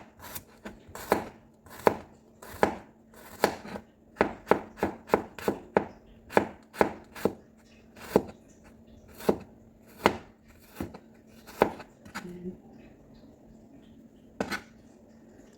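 A knife chops thin-sliced garlic on a cutting board in a run of about two dozen sharp, close knocks, some spaced and others in quick bursts, with no talk.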